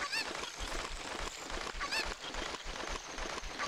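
Chicken in the video game Zelda Ocarina of Time: loud, repeated squawking clucks in a quick rhythm over a busy, dense game soundscape, with no talk.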